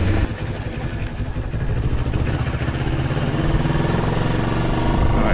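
Moto Morini X-Cape 700 motorcycle being ridden, a continuous close engine drone with rumbling exhaust and road noise that builds gradually, heard from the rider's position without talk.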